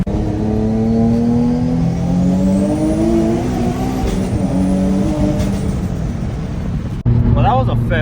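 BMW M340i pulling hard in third gear with a suspected exhaust leak, its engine note rising steadily in pitch, loud and close from inside the car, with a voice talking over it near the end.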